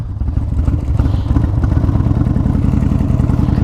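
A Harley-Davidson Fat Boy motorcycle with a 140-cubic-inch engine idles steadily up close with the choke on, a low rapid chugging pulse with a light mechanical clatter, holding an even level throughout.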